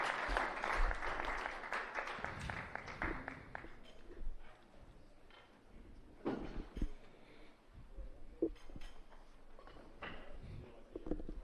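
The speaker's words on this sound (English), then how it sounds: "Round of applause for our athletes." A crowd applauds athletes at a secondary school weightlifting championship medal ceremony in New Zealand. The clapping is dense and loud for about four seconds, then thins into scattered claps and room noise.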